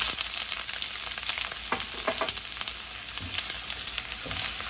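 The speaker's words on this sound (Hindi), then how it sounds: "अब इसमें अनियन," Onions fry with whole red chillies and ginger over a medium flame for baingan bharta, a continuous close sizzle broken by crackling pops and stirring scrapes, without talk.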